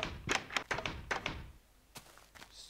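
Minecraft door swinging shut when a lever is switched, a run of short, quiet wooden thunks and taps close together, then a couple of softer clicks, with no talking.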